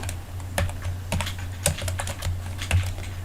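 Quick keystrokes tapped on a computer keyboard while typing in a word processor, a steady run of close, light clicks with a few heavier taps like the space bar, no talking.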